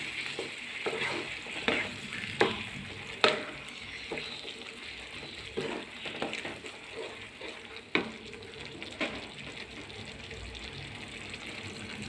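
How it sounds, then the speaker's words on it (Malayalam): Asafoetida powder is stirred into papaya pickle in a pan, soft scraping and clinking strokes with light sizzling, close and fairly quiet with no talk. "ആവശ്യമായിട്ടുള്ള കായം പൊടി ഒന്നുകൂടി മിക്സാക്കാം"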